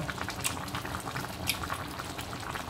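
Water bubbles and churns steadily in a pot, a continuous close rolling boil with soft pops throughout.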